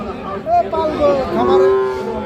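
Cattle at a livestock market, a Sahiwal bull calf among them, give several drawn-out moos close by over a murmur of crowd noise and background chatter.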